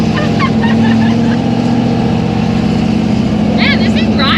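A nose-high 1964 Chevy II gasser hot rod engine driving, a loud steady low rumbling drone from inside the car, with people talking over it throughout.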